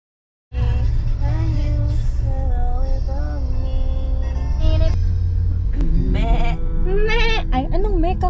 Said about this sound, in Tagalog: Kambing yun.